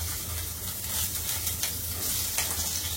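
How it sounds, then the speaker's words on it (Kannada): Green chillies and onions fry in hot oil, a soft steady sizzle and crackle at low level with faint stirring scrapes, no talking. "ಆಯಿಲ್ ಹಾಕೊಂಡಿದ್ದೀನಿ. ಅದಾದ್ಮೇಲೆ ಮೆಣಸಿನ್ಕಾಯಿ, ಈರುಳ್ಳಿನ ಹಾಕೋತೀನಿ"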